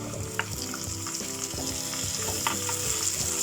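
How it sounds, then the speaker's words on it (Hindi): Steady, busy sizzling of tomatoes frying with light-brown onions in a pan, with a few stirring scrapes and clinks over the continuous hiss. "ओनियन हमारा पिंक लाइट ब्राउन हो गया है, इसे ज़्यादा ब्राउन नहीं करना है, ज़्यादा डार्क नहीं करना है। तो अब इसमें हम टमाटो ऐड करेंगे।"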